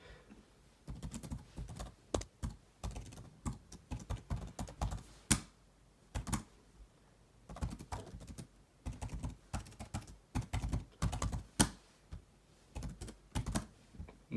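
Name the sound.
typing commands on a computer keyboard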